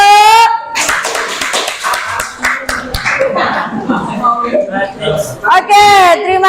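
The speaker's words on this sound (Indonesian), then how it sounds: "Tepuk lagi yuk." Audience clapping after a group's class presentation, a burst of applause from a room of people, steady and fairly loud, mixed with voices and chatter throughout.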